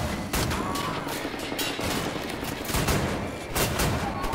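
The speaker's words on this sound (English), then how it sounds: "I love these automatic shotguns." Automatic shotgun blasts from the video game Wolfenstein The New Order come in a fast, uneven burst of heavy booming shots over a dense, noisy game soundscape.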